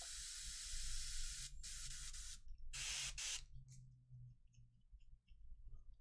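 A clogged airbrush nozzle sprays miniature paint in short hissing bursts, with two strong blasts separated by pauses and sputtering, close and alone.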